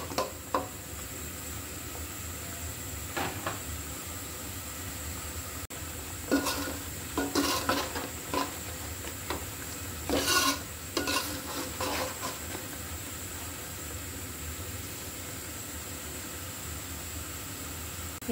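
Spices with turmeric are stirred and sautéed in a pan for a snakehead fish curry with cauliflower and beans: a steady soft sizzle with intermittent scraping clusters of spatula against metal, close, with no talk.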